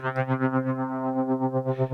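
A sustained synth tone wobbles with a smooth, steady pulsing modulation, rising and falling evenly about twice each half second.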